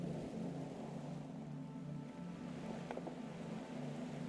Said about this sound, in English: Listen to the sound of traffic moving over water.